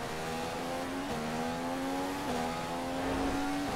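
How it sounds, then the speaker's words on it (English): Mercedes Formula 1 engine in the F1 2015 racing game at the Malaysian GP, a steady high-pitched whine holding near-constant pitch with small dips at gear changes, heard alone with no talk. "Sam, he's on that brand new Mercedes engine."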